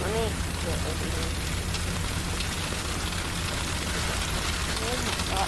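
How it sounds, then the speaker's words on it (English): Hail and heavy rain pelting a storm chaser's car during a tornado-producing storm, a dense, constant drumming roar filling the cabin from start to finish, with voices faintly under it. "New hail coming in."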